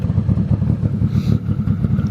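Mitsubishi Evo X race car with no exhaust and a misfire, its engine idling loudly in a choppy, uneven low rumble close by.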